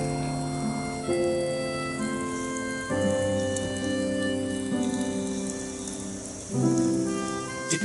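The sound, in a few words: heavy rain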